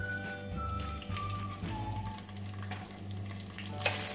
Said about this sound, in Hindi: और ये थोड़ा सा हिला दूंगी